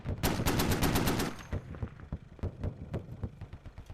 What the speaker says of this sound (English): Good shots with the 50 cal.